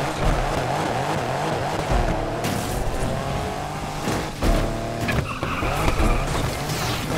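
A fast Mitsubishi Eclipse GSX in the racing game Need for Speed Unbound, with a steady engine drone and repeated loud tire skids and squeals as the car drifts, continuous and close.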